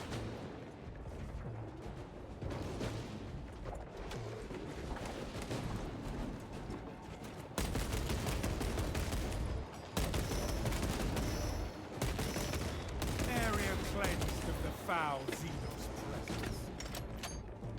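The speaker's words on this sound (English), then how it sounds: "Where are these shots coming from?" Gunfire in Space Marine 2 rattles in dense, continuous bursts with heavy mechanical clatter, and the battle noise grows louder and busier partway through.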